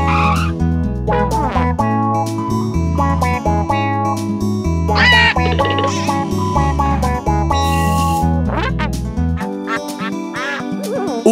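A cartoon duck from Pocoyo quacks repeatedly in loud, nasal bursts over bright cartoon music, close and prominent throughout.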